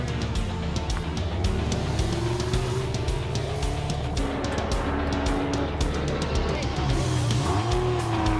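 A Mazda race car running at Thunderhill during a 25-hour endurance race, a loud, steady engine drone with rising and falling revs under acceleration, overlaid with radio chatter and talk.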